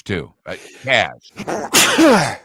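A single abrupt sneeze bursts out near the end of a stretch of conversational talk, loud and close, with voices speaking before and around it.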